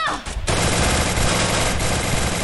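Rapid automatic gunfire rattles in a shooter video game, a dense, loud, continuous burst of shots following a short quieter moment at the start.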